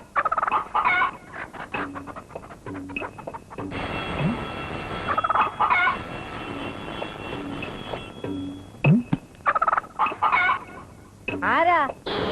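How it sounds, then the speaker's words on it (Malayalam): Chickens cluck and a turkey gobbles close by in a Malayalam comedy film scene, with bursts of fowl calls broken up by people talking. "ഓ, കോഴിയാണല്ലേ?"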